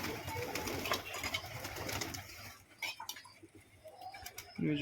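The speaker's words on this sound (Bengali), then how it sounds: "গিরিবাজ পায়রা বাচ্চা খাওয়াচ্ছে বাচ্চা খাওয়াচ্ছে ঘরে বাচ্চাও আছে" Giribaz pigeons in a home pigeon loft with chicks, giving faint, low coos amid a rustling, noisy background and an occasional clatter.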